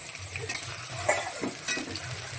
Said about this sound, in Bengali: সুন্দর করে বাদামি বাদামি করে ভেজে নেব